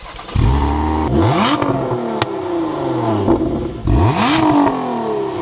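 A sports car engine revs hard twice, the exhaust rising sharply in pitch and then falling back, loud and close, with clattering between the bursts.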